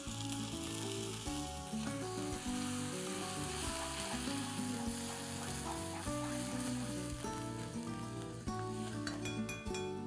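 Steady, loud sizzling of tomato puree frying in a hot pan, continuous for the whole stretch with a dense crackle and no talking.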